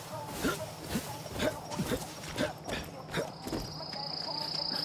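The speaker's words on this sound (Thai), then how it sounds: "โอ้โหแม่งเสียงจักจั่น" Cicadas chirp in the outdoor game world of Far Cry New Dawn, a steady hissing insect buzz that rises into a thin, sustained high drone toward the end, mixed with rhythmic ambient thuds.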